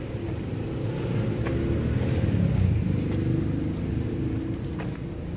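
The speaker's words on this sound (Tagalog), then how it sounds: "Iyon yung ating sasakyan." Inside a moving car, a steady low engine and road rumble drones continuously with faint rattles. No one speaks over it.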